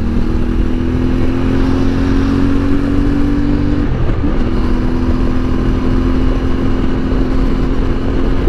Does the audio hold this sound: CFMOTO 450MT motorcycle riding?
yes